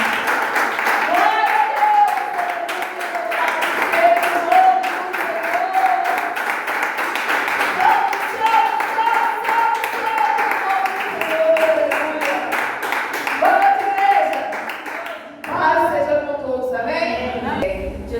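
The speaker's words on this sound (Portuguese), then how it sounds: "Louve o Senhor por suas palmas." A church congregation claps in praise, a steady dense patter of hands filling the room while a sung or sustained voice carries over it, ending with a few louder scattered sounds.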